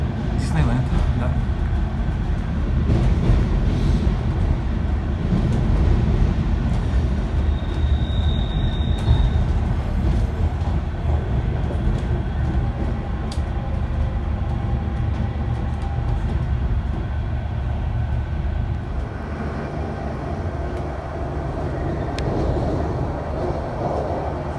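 Steady low rumble of a commuter train rolling along toward Paris, with rattling and a brief high whine partway through, continuous and fairly loud throughout.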